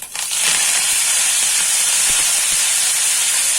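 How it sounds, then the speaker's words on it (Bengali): Curry leaves hit hot oil already tempered with mustard and cumin seeds. A loud hiss erupts abruptly and stays intense, with sharp crackles and pops scattered through it at close range. "সর্ষে এবং জিরে ফোড়ন দিয়ে দেবো এবার এর মধ্যে আমি কারি পাতাটা দিয়ে দেবো"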